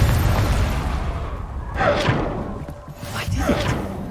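Confringo blasting spells bursting in Hogwarts Legacy, a deep booming whoosh followed by a second blast, with a voice calling out between them.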